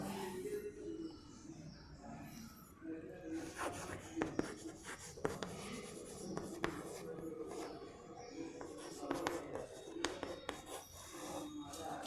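A pen or pencil writes a distance formula on paper in a maths lesson, giving soft, continuous scratching and rubbing strokes with short taps, close and quiet throughout.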